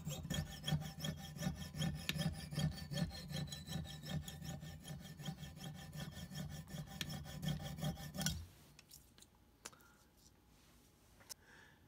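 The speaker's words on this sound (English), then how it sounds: "The jig vise is a really easy way to cut pieces of tubing the exact same length to make perfect knuckles for a hinge" A jig vise mitre cutter works through metal tubing for hinge knuckles, a close rhythmic rasping saw stroke repeating for about eight seconds before stopping, followed by a few light clicks and handling sounds.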